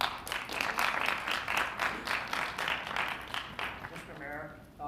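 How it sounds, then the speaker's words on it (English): Audience members at a city council meeting snap their fingers together in a rapid, crowded patter of sharp clicks that swells and then tapers off, with a voice starting at the end. "Everybody's clicking their fingers."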